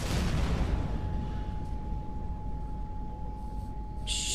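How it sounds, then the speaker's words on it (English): A big explosion in the Mirror's Edge Catalyst video game opens with a loud, broad roar, then settles into a long, rumbling low-end decay with a steady tone underneath. "big explosion over here"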